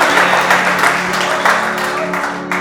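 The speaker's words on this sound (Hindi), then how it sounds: "एक बार तालियां बजा दीजिए" An audience at a Republic Day celebration in a civil services institute claps, a moderately loud, fairly even stretch of applause with a faint sustained tone beneath and a slight fade near the end.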